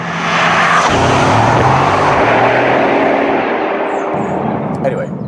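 Car driving on a road in Portugal, a loud broadband rush of engine, tyre and wind noise filling the cabin, steady throughout with a faint engine tone shifting underneath.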